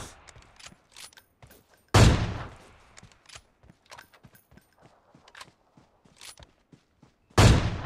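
Gunshots in PUBG Mobile: two loud, sharp reports several seconds apart, each with a ringing tail, amid a scatter of quieter clicks, taps and footstep-like knocks.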